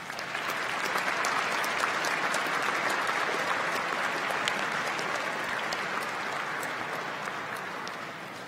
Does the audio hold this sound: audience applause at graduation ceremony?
yes